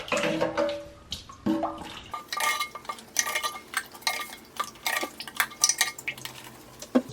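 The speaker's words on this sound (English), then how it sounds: "So I'm going to take this and scoop the water out." Measuring cup scooping water out of a toilet bowl, with quiet splashes, drips and hard clinks of the cup against porcelain coming in irregular bursts, close and fairly soft.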